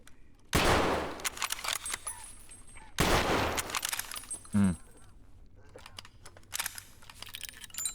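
Two loud, sharp gunshots in the shooter game Escape from Tarkov crack out a few seconds apart, followed by a short mechanical clack and scattered quieter clicks and rustles.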